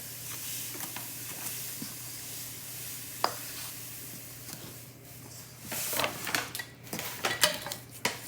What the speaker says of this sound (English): So Clem's just mixing all the dry ingredients right now.